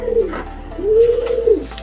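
A racing pigeon coos nearby, a short low note followed by a longer, drawn-out rolling coo, clear against quiet background hum.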